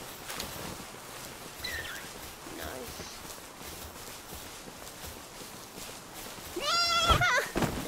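A sheep in the video game Palworld lets out a short, loud bleat near the end, following a stretch of quiet ambient game sound and faint footsteps.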